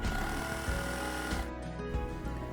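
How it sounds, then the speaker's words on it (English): A sewing machine stitching shoulder seams on a dress, running loud and close in a steady motor whir with a brief pause near the middle. "Pin and sew the shoulder seams together"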